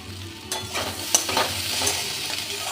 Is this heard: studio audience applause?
no